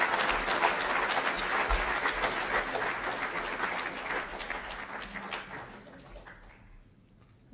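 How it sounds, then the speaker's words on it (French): Sustained audience applause at a champions' awards night, a thick, even roar of many hands clapping that gradually tapers and dies away near the end. "Bravo Ninon, je vous demande de l'applaudir."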